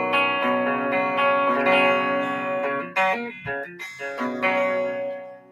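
A guitar played through a Fender Super-Champ XD amp with its DSP effects on, ringing sustained chords with a shimmering, chorused and reverberant tone and a few strummed changes.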